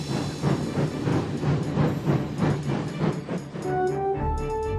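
A long, heavy train runs in a Roblox game, giving a rhythmic chuffing and rolling clatter at a steady pace, moderately loud, ending with a sustained tonal whistle-like note.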